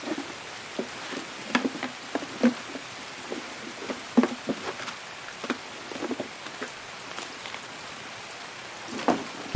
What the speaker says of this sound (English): Rain makes it really hard to hear anyone.